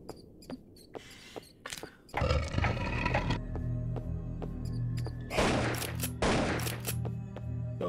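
Several sharp, close gunshots ring out in the horror game Anglerfish, set against a low droning background and a few scattered softer clicks and thuds.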